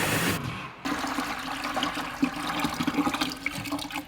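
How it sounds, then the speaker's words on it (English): A pressure washer sprays water in a steady, hissing rush after a brief cut near the start, continuing with a dense splashing flow and no voices. "We'll time it over the course of 1 minute and see how much water we get out."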